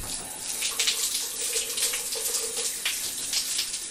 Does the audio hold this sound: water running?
yes